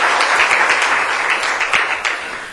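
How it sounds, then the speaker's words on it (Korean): A church congregation applauds in a dense, even wash of many hands clapping, loud and sustained, with no talk over it and a slight fade toward the end. "우리 박수 한번 합시다."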